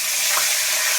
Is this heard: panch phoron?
yes